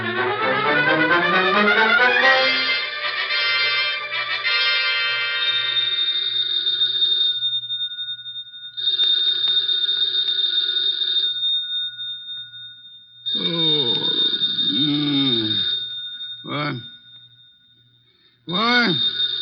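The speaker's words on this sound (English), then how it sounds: "The phone." A telephone bell rings in repeated metallic bursts, clear and close, in an old radio mystery drama, with voices speaking between and over the later rings.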